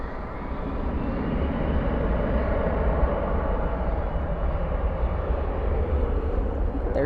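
Jet airliners taxiing at night at Dallas/Fort Worth airport, a steady distant engine roar and rumble that holds evenly throughout without distinct passes.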